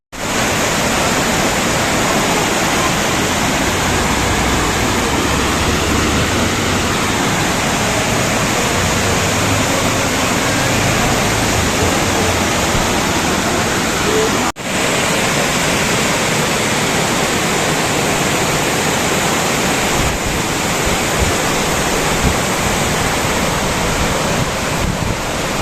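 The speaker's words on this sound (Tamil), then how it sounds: "இப்போ கடைசியாக பார்த்த வாட்டர் ஃபால்ஸ் இது. ஒரு பிரிட்ஜுக்கு கீழே அழகாக ஓடிட்டுருக்கு." A waterfall at Valparai flows under a bridge in a loud, continuous, close rushing roar that stays steady from start to finish.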